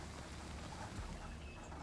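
Steady, quiet wash of contaminated rain falling in the city-building game Endzone - A World Apart, a soft continuous hiss with low rumble and no voices.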